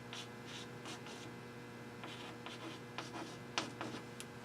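Pen or marker scratching out a math formula on a writing surface, a steady faint rubbing with short strokes and taps against a low constant hum.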